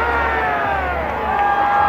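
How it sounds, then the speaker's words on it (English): Large crowd roaring and cheering at a high school football game between Legend and Castle View in Castle Rock, a steady dense wall of voices with brief whoops rising above it. "Big crowd on hand."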